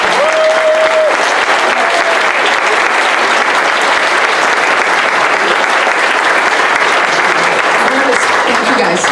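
An audience at a sixth grade moving-up ceremony applauds the band and orchestra students, with steady, dense clapping that holds loud from start to end.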